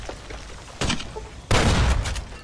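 Grenades burst in the Fallout New Vegas game during a fight at the Legate's camp, with a sharp blast followed by a longer, louder roaring explosion, both close and heavy.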